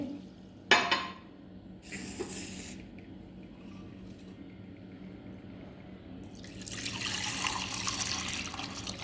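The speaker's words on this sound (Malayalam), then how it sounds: "ഞാനിവിടെ കുറച്ച് തിളപ്പിച്ചാറിയ വെള്ളമാണ് ഒഴിക്കുന്നത്" Boiled and cooled water poured into buttermilk in a kitchen, a sharp knock at the start, then a faint steady trickle that grows into a louder, fuller pour toward the end.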